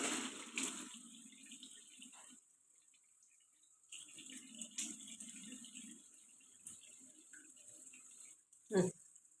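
Tap water splashes faintly in a sink while someone washes their face, coming in two soft bursts separated by quiet, with a brief sharp knock near the end.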